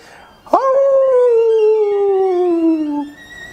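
A person imitates a dog with one long, loud howl that starts sharply and slowly glides downward for a few seconds before cutting off.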